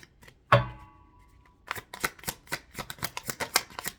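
A deck of tarot cards is handled, with one sharp tap followed by a quick series of rhythmic riffling shuffles, close and clear with no talking.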